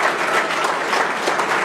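A crowd at a political victory speech after a Georgia primary runoff breaks into loud, dense applause, an even roar of many hands clapping with no gaps.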